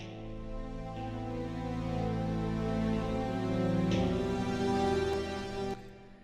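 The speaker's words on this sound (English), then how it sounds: "And then we have these sort of guitar strums." Sustained layered guitar strums from Inception, a dense steady wash of chords over low drones, holding loud and even for about six seconds before a brief shift and a sudden drop at the end.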